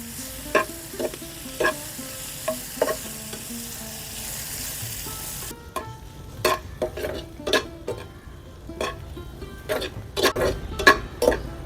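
Dried vaala fish thokku being sautéed in a pan over a village wood-fired stove, a steady sizzle broken by repeated rhythmic scrapes and clinks of a spatula against the pan, close and clear with no talking.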